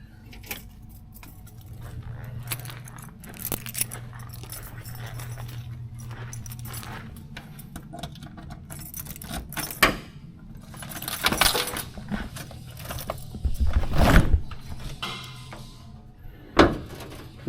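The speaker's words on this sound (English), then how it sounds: "Let me grab the keys." Car keys for a 1967 Pontiac Bonneville jangle in a series of close metallic rattles and clinks, louder bursts scattered over a quiet background with some faint handling thumps.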